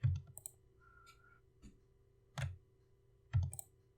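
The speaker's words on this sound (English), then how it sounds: "I'm going to hold my Alt key pressed on my keyboard" Sparse computer keyboard key clicks, three or four distinct taps spaced about a second apart, close and fairly quiet over a faint steady hum.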